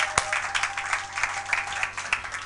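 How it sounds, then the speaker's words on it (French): A church congregation applauding together in quick, rhythmic claps, a steady close burst of hand-clapping with regular beats over about two and a half seconds. "Acclamez pour la gloire de notre Dieu, de notre Seigneur, de notre Roi."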